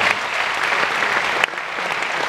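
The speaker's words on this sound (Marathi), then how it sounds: "म्हणून एकदा जोरदार टाळ्या आमच्या व्याख्यानमालेसाठी वाजवल्या पाहिजेत" An audience at a Marathi lecture series on Chhatrapati Shivaji's leadership breaks into sustained, dense applause, many hands clapping loudly and evenly for a couple of seconds without speech.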